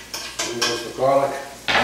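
Garlic hitting a hot pan for collard greens with bacon, a sizzle rising among clinks and scrapes of a utensil stirring against the pan, close and fairly loud.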